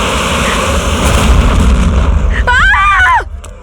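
A country-made desi gun fires with a loud, close blast that roars on for about three seconds, then a voice cries out as it fades.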